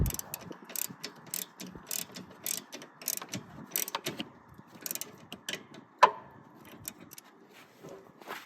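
Close, repeated ratchet clicking in quick irregular bursts while tightening 13mm nuts on the AC condenser of a 1999 Ford Ranger, with metallic taps and one sharper clank midway; no talking.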